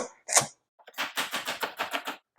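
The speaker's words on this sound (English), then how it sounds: "I'm just going to get the rest of these carrots chopped up" Carrots being chopped with a knife on a board in a home kitchen while preparing vegetable soup for canning: a rapid, uneven run of close, crisp taps, with a brief pause near the start.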